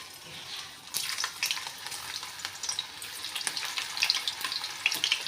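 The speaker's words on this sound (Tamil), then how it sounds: "எண்ணெய் நல்லா சூடாகுதுல வாழைக்காய் ஆட் பண்ணிக்கலாம்" Raw plantain slices crackle and sizzle as they drop into hot oil for plantain chips. The frying is close, with a dense, bubbling crackle that grows busier after the first second and carries no talk.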